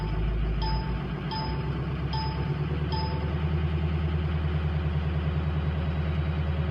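Turbocharged 2005 diesel engine running steadily with a low, even drone, overlaid by a repeated high whistling chirp that pulses four times as the variable-geometry turbo overboosts; steady and close, no talk.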